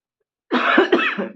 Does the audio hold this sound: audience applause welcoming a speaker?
no